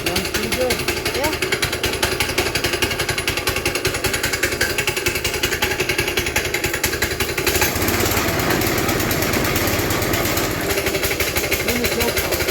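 A Honda GX small engine runs steadily just after its carburetor was cleaned, giving a loud continuous buzzing drone close by that holds its level throughout.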